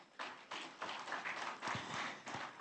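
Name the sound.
applause for Deputy Raden Isnanta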